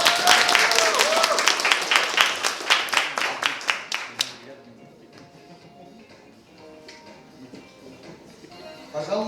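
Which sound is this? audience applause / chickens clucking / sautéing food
audience applause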